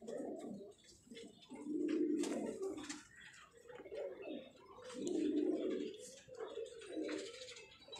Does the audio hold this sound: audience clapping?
no